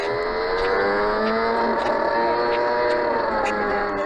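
An F1 race car in a rainy video game race whines at high revs with shifting, sweeping engine pitch as it spins out at the first turn, loud and close with spray noise beneath.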